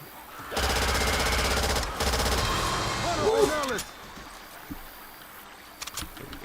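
Gunfire and reloading in a video game: a rapid burst of automatic fire, then a short mechanical reload clatter, followed by a few isolated sharp clicks and taps.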